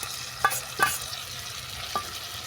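Previously fried vegetables stirred into a pan of sautéed spice mix, for a Bengali ol shak ghonto with hilsa fish head: a few brief spatula scrapes over a faint, steady sizzle, quiet and close.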